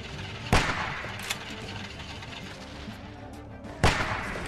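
Gunshots in The Walking Dead video game, two loud close bangs a few seconds apart over a dense, noisy game background, with no talk.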